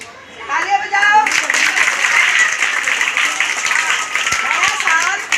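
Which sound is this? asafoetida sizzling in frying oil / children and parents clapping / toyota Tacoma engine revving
children and parents clapping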